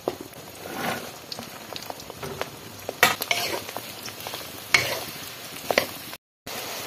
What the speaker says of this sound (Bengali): ৰসুনখিনি আমি ভাজি ল'ম তাৰপিছতে ইয়াতে আদাখিনিও দি দিম জলকীয়াখিনিও দি দিম